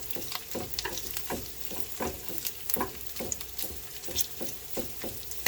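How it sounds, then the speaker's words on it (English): Corned beef hash sizzles steadily in a frying pan while a utensil scoops and flips it, scraping at a regular beat of about two strokes a second, close by with no talk. "I just keep scooping it and flipping it so it doesn't burn. And it's cooking right up"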